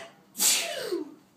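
A toddler lets out a single sharp sneeze, close and loud, with a short breathy tail, at home.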